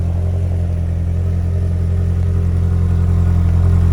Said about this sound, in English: Nice sounding exhaust, not too overpowering, and again, under load, definitely gets a lot louder